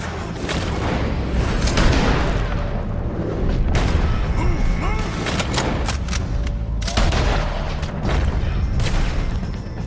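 Gunfire from a Red Dead Redemption 2 shootout against O'Driscoll gang members, repeated loud cracks and booming blasts in irregular bursts throughout, dense and close, with no talk over it.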